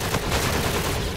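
An automatic gun fires in the Call of Duty: Infinite Warfare video game, a dense rapid burst of shots that fills the short moment loudly and without a break.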